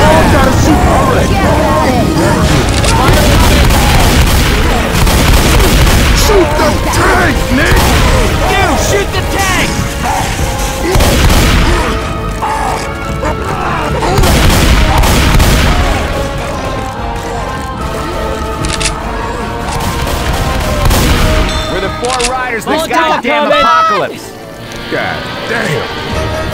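Left 4 Dead 2 combat on expert realism: a dense, loud barrage of gunfire, crashes and fire from a thrown Molotov, continuous throughout with voices shouting over it.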